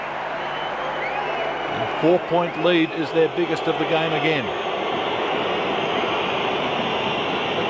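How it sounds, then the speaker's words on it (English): A packed arena crowd at a 1995 junior world championship basketball game between Australia and Greece keeps up a steady, dense roar, with a commentator's voice rising over it midway. "The crowd really starting to roar behind Greece at the moment"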